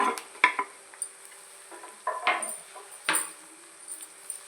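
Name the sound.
onions and chillies frying with dried prawns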